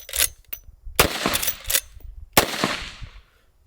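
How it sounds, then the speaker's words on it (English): Three sharp, loud unsuppressed shots from a lever-action rifle firing supersonic .357 Magnum rounds, each a hard crack with a short ringing decay, spaced irregularly about a second apart with no talking. "let's go ahead and start unsuppressed with a supersonic 357 out of this lever action"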